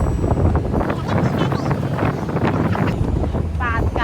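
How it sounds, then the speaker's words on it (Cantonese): Heavy wind buffeting the microphone aboard a car ferry crossing to Bruny Island in south-east Tasmania, a loud, constant roar with a low engine rumble beneath and no clear speech. "我哋而家就上船去塔斯曼尼亞嘅東南面 Bruny Island 啦"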